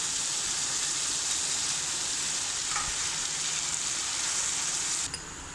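Chital fish koftas sit in a pan of sizzling spiced masala, giving a steady, bright, hissing fry that continues evenly throughout with a faint clink near the end.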